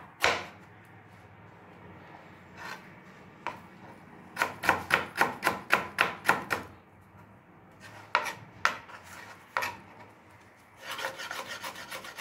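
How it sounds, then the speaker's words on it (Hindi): Ginger is chopped finely with a knife on a board, a quick series of sharp close taps in clustered bursts separated by short pauses. "अदरक को बारीक काट के डालेंगे।"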